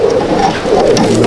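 Old-breed Madrasi pigeons coo close by in a short, throaty, rolling burst, with soft rustling behind them.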